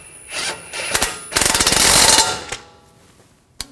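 A ratchet wrench clicks in short bursts and then in a longer rapid run while bolts are tightened on a Ram 1500 front ABS sensor. The sound is close and fairly loud, and no voices are heard.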